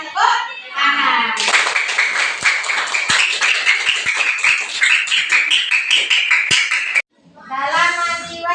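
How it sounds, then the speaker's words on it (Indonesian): Classroom of students clapping together for a correct answer in a religious studies lesson, a dense burst of hand claps lasting several seconds, with a voice speaking just before and after. "Maka kita kasih penghargaan tepuk tangan."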